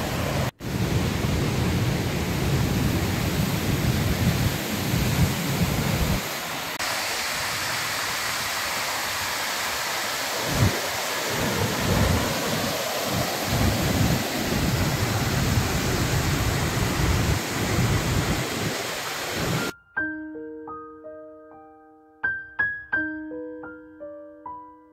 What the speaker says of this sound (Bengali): অসাধারণ লাগছে, এত কাছ থেকে দশম ফলস দেখছি